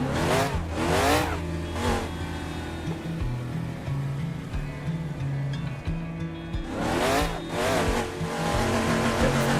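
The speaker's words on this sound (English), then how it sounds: "It's a fairly loud car, so just let me know if there's any audio concerns or anything" A historic race car in Assetto Corsa revs hard through repeated rising and falling sweeps, loud and close, with a gap of steady engine drone in the middle before another burst of climbing revs.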